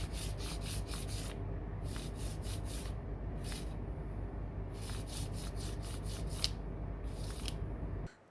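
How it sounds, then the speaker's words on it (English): Rhythmic, steady rubbing strokes of an opal pendant bail being sanded into shape, close and continuous, with regular scratchy passes and short pauses between bursts, no talking. "we've sanded one side of it, basically enough to make the bail shape"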